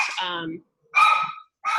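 A pet dog barks loudly at close range during an online community meeting, three sharp barks separated by short pauses, with a person also talking.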